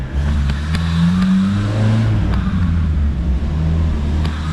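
A 1986 Plymouth Voyager with a 2.2 liter engine runs on a dyno, its loud, steady drone rising in pitch as it revs, heard close and without talk.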